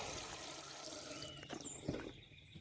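Water is poured into a small container to dissolve a piece of ferric chloride for a chemistry preparation, a faint, soft trickle and splash against steady background hiss.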